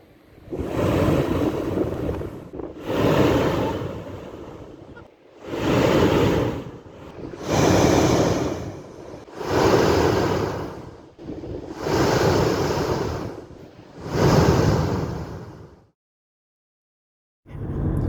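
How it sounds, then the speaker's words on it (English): Ocean blowholes roar with no water spouting, each surge a loud, breathy rush lasting about two seconds, repeating roughly seven times in a steady rhythm with short quiet gaps between. "the blowholes are not blowing water, but they are making an incredible sound"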